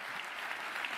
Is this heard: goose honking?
no